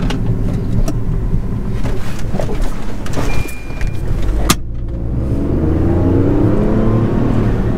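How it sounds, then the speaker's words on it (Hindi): A Tata car engine in sports mode holds a loud, sustained drone under full throttle, heard close from inside the cabin, with a sharp click midway before the tone settles into a smoother rising hum. "मैंने फुल एक्सलेटर दबाया तो तीन हज़ार साढ़े तीन हज़ार में चेंज कर दिया"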